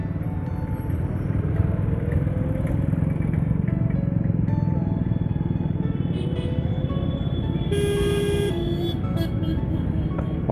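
Jammed traffic at a busy town crossing in India, with motorcycles and cars idling and creeping in a continuous dense engine rumble, and a horn sounding briefly near the end, with no talking.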